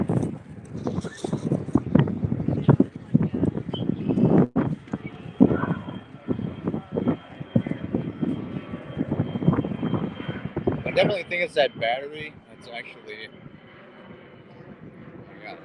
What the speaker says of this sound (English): the plane is really noisy